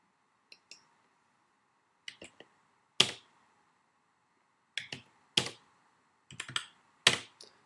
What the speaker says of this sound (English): when I start typing in these scores